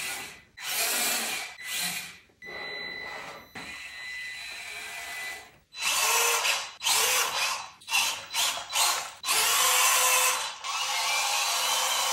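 Small 1/18-scale RC crawler, a Traxxas TRX4M or Hobbytech CRX18, with its electric motor and geared drivetrain whining and grinding in short close bursts separated by brief pauses, without any voices.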